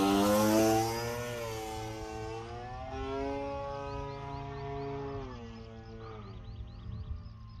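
An Amewi YAK11 1450mm 6s electric RC warbird model plane in flight, its motor whining with a strong rising and falling tone as it passes and maneuvers, loud at first then steadier and fainter.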